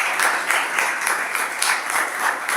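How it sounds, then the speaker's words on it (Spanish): Strong applause from an audience at an economics lecture, a dense, loud and even wash of many hands clapping together that holds steady without pause. "por favor, con un fuerte aplauso"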